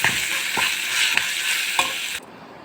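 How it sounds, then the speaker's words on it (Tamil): Raw mango with turmeric and salt sautéing in a pan for a mango rice dish, a loud close sizzle with regular spatula scrapes that cuts off abruptly near the end. "நல்லா வதக்கிக்கோங்க."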